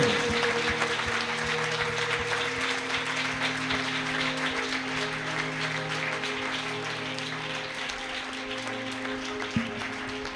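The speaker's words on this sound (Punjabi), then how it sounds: "ਪ੍ਰਭੂ ਦੇ ਲਈ ਜ਼ੋਰ ਦੀ ਤਾਲੀ ਬਜਾਈਏ" A church congregation applauding during a sermon, sustained, even clapping filling the room throughout, with a steady hum beneath and no speech.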